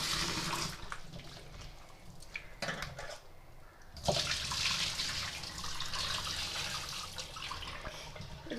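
Taro stolons (kochur loti) being rinsed by hand in water in a kitchen, with continuous splashing and running water, brief pauses, then renewed sloshing, fairly close and without speech.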